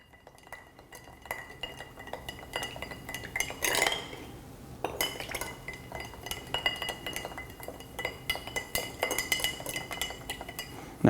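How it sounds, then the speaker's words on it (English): Ice cubes clink and rattle steadily against glass as a Monte Carlo cocktail made with rye whiskey is stirred with a bar spoon, a continuous close tinkling with brief louder knocks. "we're just going to stir that until it's properly chilled the cocktail."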